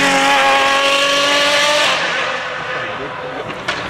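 A De Tomaso P72 sports car engine roars loudly with high revving tones for about two seconds, then drops off, leaving faint road noise and a short squeak.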